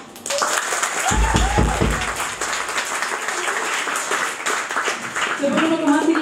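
A live club audience at a rock show at Blue Barrel applauds and cheers for the band, a steady wash of clapping that follows a brief deep thump, with someone speaking over it near the end.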